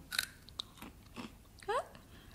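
Live larvae bitten and chewed up close, a few soft wet crunches and munches spread over about two seconds, faint and quiet with a brief voiced sound near the end.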